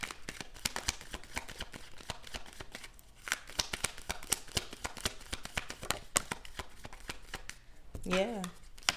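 Tarot cards are shuffled close up in rapid, repeated riffling bursts with crisp snapping flicks, and a brief voice comes in at the very end.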